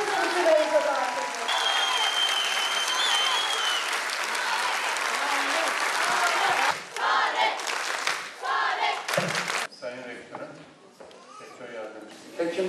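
A crowd at a faculty ceremony gives loud, sustained applause for a doctor who overcame obstacles to become a specialist. The clapping stays dense for several seconds, then thins into scattered claps with voices mixed in.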